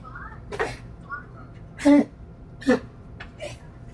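A few short, sharp coughs or sneeze-like bursts break through a quiet background, spaced apart, with speech-like sounds between.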